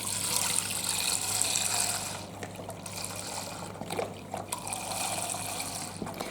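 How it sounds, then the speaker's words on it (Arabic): A liter of milk poured from a carton into a saucepan for a crustless egg and caramel flan, a steady close liquid trickle with a few brief breaks. "خديت الكاسرول نتاعي باش نحط ايتر حليب"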